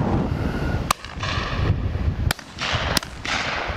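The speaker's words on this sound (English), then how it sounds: "Joe just shot that one, and I think Malcolm might have shot the one that just landed by Joe" Shotguns firing at pheasant and partridge on a driven shoot in Dorset, three sharp cracks spaced a second or so apart over steady wind buffeting the microphone.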